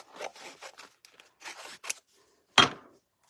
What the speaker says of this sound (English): So I'm going to cut my sunflower